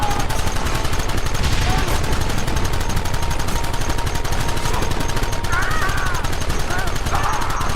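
Rapid, continuous gunfire in the Red Dead Redemption video game, with dense machine-gun-like bursts rattling throughout at high volume while shouted voices break in over the shooting.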